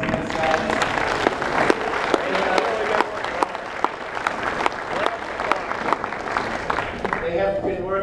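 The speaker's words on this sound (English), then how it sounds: "I would like everyone to give a big warm applause to these guys." An indoor audience at an electric-vehicle conference bursts into sustained, loud applause, dense clapping lasting throughout, with a voice faintly heard beneath near the end.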